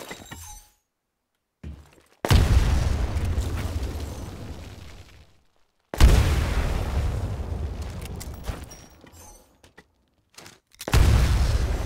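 Grenades go off in the Titanfall training range as three loud blasts a few seconds apart, each a sudden roaring boom with a long crackling, debris-like tail that fades out before the next one hits.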